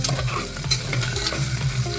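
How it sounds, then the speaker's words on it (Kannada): Onion and whole spices such as cinnamon and cloves sizzle steadily in hot oil in a home kitchen, with scraping stirs of a spoon breaking through the close, busy frying. "ಫ್ರೈ ಆಗ್ತಿದೆ"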